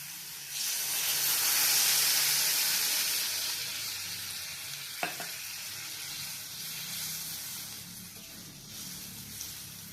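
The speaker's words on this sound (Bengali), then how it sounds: "কষানো হয়ে গেছে, এবার আমি এর মধ্যে একটু জল দিয়ে দেবো" Water poured into a hot pan of spiced masala of cumin and red chili for egg curry, setting off a loud, steady hissing sizzle that swells and then slowly fades, close and without talking.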